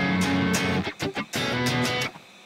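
Guitar phrase from a song, with strummed chords, brief muted hits and gaps, then sustained ringing notes, played close and alone.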